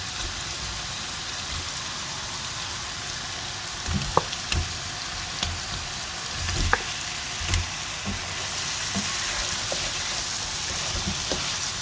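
Steady sizzling and crackling of half-boiled potatoes and chopped green chillies frying in spices in a pan, with occasional stirring clinks and scrapes; no talking.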